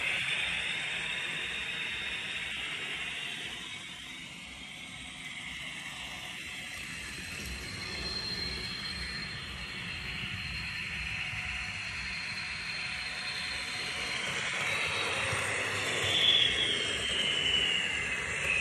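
A model CC72000 locomotive by Lematec, fitted with a Maxon motor, runs steadily through a curve as a continuous hum and rolling rumble, with no talk.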